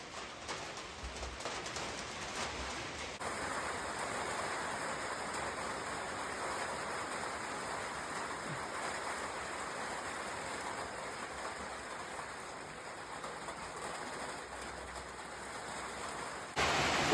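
Rain falls before dawn beside a river in Almora, Uttarakhand, making a steady, even hiss that carries through the whole stretch without a break and ends with a brief louder burst.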